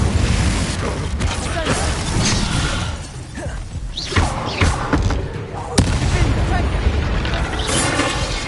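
Fire and ice spells from Hogwarts Legacy crackle and boom in a dense game battle, with repeated blasts, shattering bursts and loud impacts over constant rumbling action, and a voice calling out at one point.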